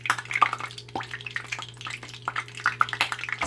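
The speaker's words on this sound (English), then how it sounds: "See how it's bubbling?" Hot oil bubbling while tacos dorados fry, with irregular close pops and crackles scattered over a low, steady hum.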